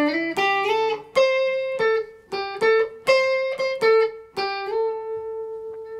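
An electric guitar plays a riff alone: about nine plucked notes with a bright, slightly overdriven tone, close and loud, ending on one long sustained note.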